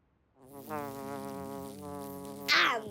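A cartoon bee buzzes with a steady, tonal drone that rises in, holds and ends with a short hiss, close and clear without speech.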